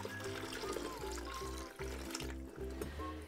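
Seven hundred millilitres of warm water pours for bread dough, a close, continuous splashing trickle with a low hum underneath and faint background sounds in a kitchen.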